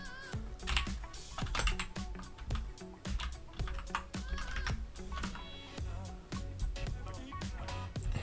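Someone types an ADB shell command on a computer keyboard, producing quick, irregular keystroke clicks and taps in a steady stream, fairly close and quiet, with no talk over them.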